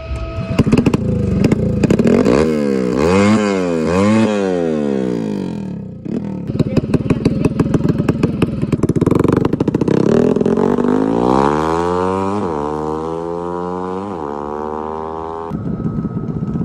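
A motorcycle engine revs repeatedly, pitch sweeping up and down in several rising and falling passes, close and loud, with voices talking over parts of it.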